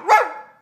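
A single loud, close dog bark rings out sharply and trails off quickly, with nothing else around it.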